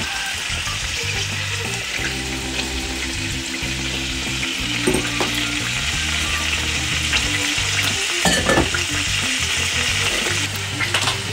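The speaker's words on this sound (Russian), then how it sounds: "Больше делаем огонь, жарим наш хлеб" Steady, loud sizzling of bread frying in meat juices in a hot pan over raised heat, with occasional scraping and stirring sounds over a background hum.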